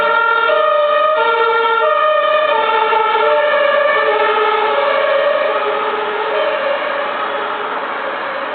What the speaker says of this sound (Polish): Karetki mi tu za plecami jeżdżą